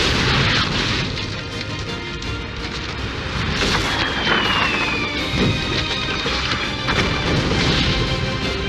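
Cannon volley fire in the Total War Shogun 2: Fall of the Samurai strategy game, a dense roar of booms and crashes running loud and continuous, with repeated blasts layered over battle din.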